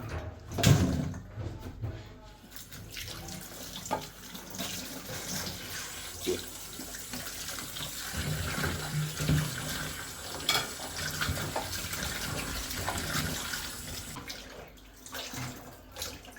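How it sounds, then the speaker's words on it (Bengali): Tap water runs and splashes while fish are washed in a sink, an uneven gurgling and splattering flow with occasional clunks, moderately close and continuous. "মাছগুলো একটু ধোবো"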